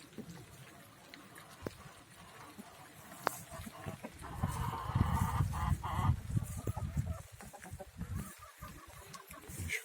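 Chickens leave their coop with clucks and honking calls that build from scattered sounds into a busy flurry of fowl noise, close by and without clear talk.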